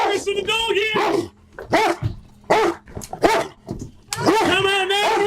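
A dog barks in loud, repeated yips and bow-wows up close, tangled with shouting voices throughout.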